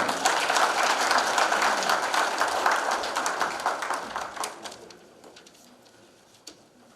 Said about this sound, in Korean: 이선옥 의장님을 큰 박수로 환영해 주십니다